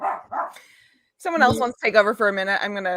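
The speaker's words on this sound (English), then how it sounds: "excuse my dog barking because I have to babysit her tonight" A dog being babysat at home barks in short, close yips and barks in quick succession while a person talks over and around them.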